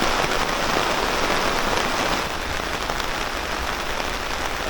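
Steady rain pours down on a campsite during a typhoon, a dense, even hiss of drops drumming on surfaces, loud and close throughout with no voices.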